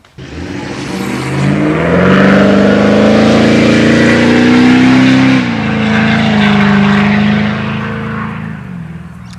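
A Nissan Patrol 200 series engine runs loud and close, its steady drone swelling as it revs up and settling again near the end, with no voices over it.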